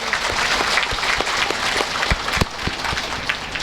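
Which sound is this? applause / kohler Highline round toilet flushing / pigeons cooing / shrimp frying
applause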